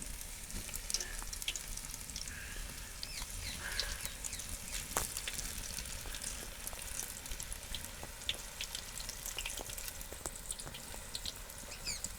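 Pakoras frying in hot oil in a home kitchen, a steady close sizzle and crackle running throughout with faint scattered clinks and no talk.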